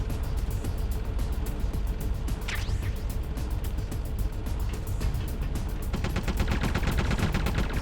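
Rapid automatic gunfire from Metal Gear Solid: The Twin Snakes crackles densely under game music and noise, steady throughout, with a sharper rattling burst of rounds in the final two seconds.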